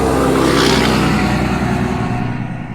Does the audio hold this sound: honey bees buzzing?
no